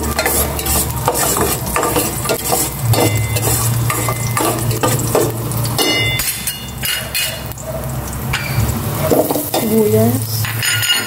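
Garlic frying in hot cooking oil for a vegetable dish makes a loud, dense sizzle, with clanks and scrapes of a utensil against the pan throughout, close up and continuous.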